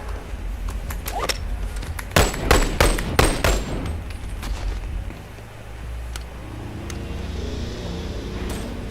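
Gunfire in the VR shooter Boneworks: a dense burst of sharp shots and rapid volleys around the second and third seconds, then scattered single cracks over a low background rumble.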